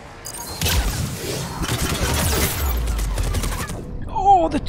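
Turret gunfire from the video game Mass Effect 3: a dense, continuous burst of rapid shots and crashing impacts lasting several seconds, loud and close, with a voice briefly heard near the end.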